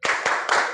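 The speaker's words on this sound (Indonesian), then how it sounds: "Tepuk semangat." A group at a training session on managing emotions performs a rhythmic spirit clap, three quick, loud, unified claps in under a second.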